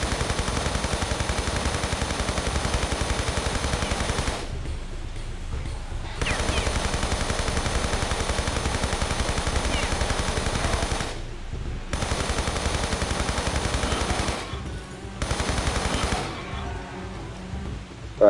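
Rapid machine-gun fire in Tomb Raider 3 rattles in long sustained bursts, loud and close, broken by a few short pauses.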